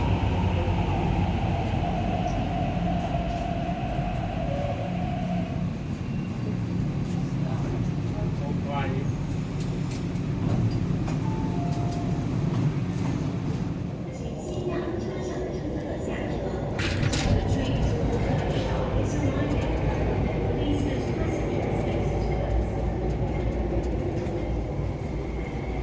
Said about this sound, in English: The train for Tinshui Line is approaching.